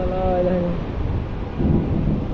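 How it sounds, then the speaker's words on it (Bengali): Rain and a low thunder rumble from a Kalbaishakhi storm roll on as a continuous broadband wash, with a deeper swell near the end and a brief tonal sound at the start. "বৃষ্টি বৃষ্টি এই যে বৃষ্টি কি যে বৃষ্টি আহা বৃষ্টি শান্তির বৃষ্টি"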